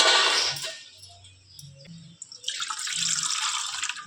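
Water rushes loudly into a cooking pot holding mutton with fried onion, turmeric and salt, in two pours separated by a quieter pause with faint clinks.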